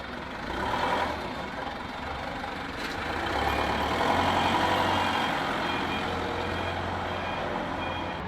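Trucks being unloaded at night on a Chinese city street: steady engine rumble with a reversing beep, distant clatter and faint background voices in a busy urban setting.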